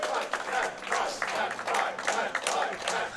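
An audience at the ESA Summer 2019 speedrun marathon applauds and cheers, a dense wash of clapping that swells and dips in waves, with a voice talking over it.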